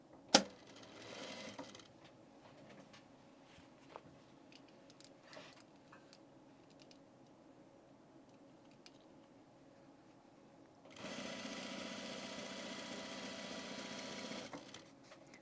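A sewing machine stitches in the ditch along a seam on men's pants, with quiet ticking clicks and brief whirs before a louder sustained run of rapid stitching near the end.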